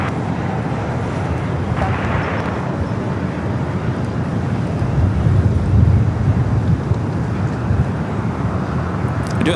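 An American Airlines Boeing 737-800 jet at LAX, bound for Las Vegas, rumbles steadily at a distance with a broad engine roar that swells slightly midway, with wind and background airport noise throughout.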